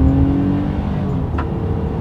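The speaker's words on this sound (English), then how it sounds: "And now let's do the acceleration test here with the Pathfinder having full control." A 2022 Nissan Pathfinder V6 SUV accelerates, its engine holding a steady, loud hum heard from inside the cabin, with a brief whoosh near the end.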